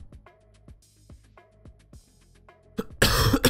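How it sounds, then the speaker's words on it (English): Someone coughing hard and close to the mic during a live stream of a shooter game, a short harsh burst of coughs following quieter game sounds. "Sorry if I keep coughing, guys."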